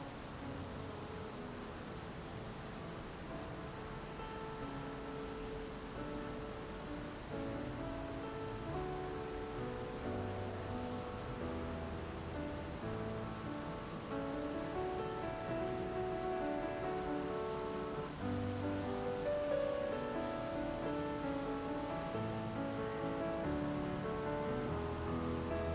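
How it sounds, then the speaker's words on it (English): Waterfall at Zapata Falls, Colorado, heard as a steady, soft broadband rush of falling water, constant and fairly distant for the whole stretch. "I could see the bottom part of the waterfall"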